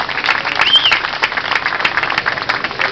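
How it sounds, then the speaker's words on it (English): Audience clapping at a Berkley B1 fishing event, a dense, steady patter of many hands continuing throughout, with a faint whistle near the start. "Let's give him a round of applause."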